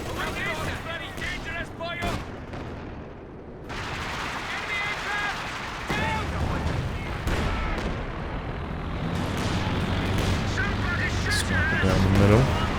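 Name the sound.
artillery barrage, Company of Heroes 2 video game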